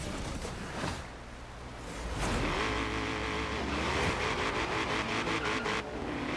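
Race car engines in a Forza Horizon 3 video game race on the Hot Wheels expansion, classic hot rod, roaring and revving loudly with rising pitch sweeps, gear changes and a car passing, continuous and close.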